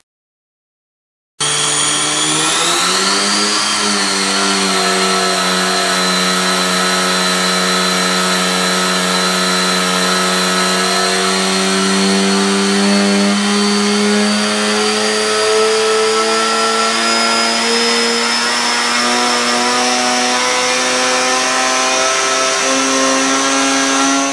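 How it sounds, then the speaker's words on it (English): A motorcycle engine runs on a dyno at Boyesen, rising from idle into a long, loud, steady pull with the pitch climbing gradually throughout, heard alone without talk. "we shall make a dyno run so you can see what goes into the testing that we do"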